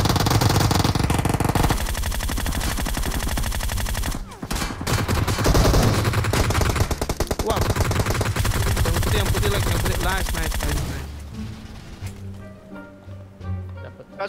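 Rapid bursts of gunfire in the PUBG Mobile video game, dense repeated shots loud and sustained for most of the stretch before dropping off into quieter game sounds near the end.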